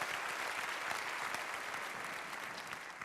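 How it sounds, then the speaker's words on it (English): An audience at a digital business conference in Stockholm claps steadily, a faint, even wash of applause that runs the whole moment with no voices over it. "Yeah, it's nice with applause."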